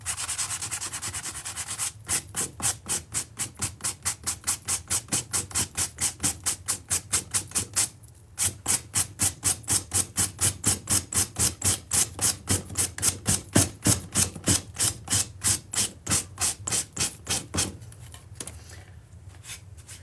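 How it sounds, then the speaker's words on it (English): Sanding block rubbed by hand over a wooden clock case, a close, rhythmic rasping of quick regular strokes repeated steadily for most of the clip, with a short pause near the middle. "I'm going to go grab another sanding block"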